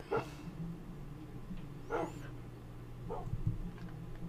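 Dogs bark in a video game village, a few separate distant barks spaced out over a low steady background hum.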